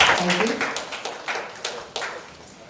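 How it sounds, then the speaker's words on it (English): An audience at a construction-industry event in India applauds to welcome dignitaries, with a brief voice at the start and then a scatter of claps that thin out and fade. "Can we please welcome our dignitaries with a round of applause?"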